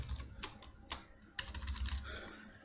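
Close computer keyboard typing as code is written, with irregular bursts of clicky keystrokes and short pauses between words.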